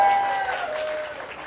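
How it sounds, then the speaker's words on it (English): A crowd applauds at a birthday celebration, the clapping steady and fairly close for a short stretch, with a few voices or a tonal shout riding over it. "just everyone give him a round of applause for that first"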